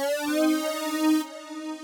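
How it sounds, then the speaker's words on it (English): A squared-off synth plays a sustained, buzzy melody line with gentle pitch movement, steady and moderately loud, alone without talking, its bright upper edge cutting off partway through. "I use this squared off synth"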